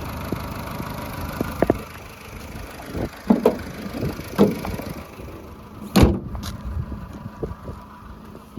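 A Skoda Fabia freshly imported from the Netherlands idles outdoors with a low, steady engine rumble. Wind buffets the microphone, and occasional louder thumps break in.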